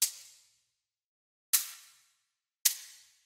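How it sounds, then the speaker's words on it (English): Three separate hits from a fruit shaker sample made of bananas and apples, each a bright, sharp shaking attack that fades quickly, spaced irregularly with silence between them and no talk. "And then I have a fruit shaker because why not?"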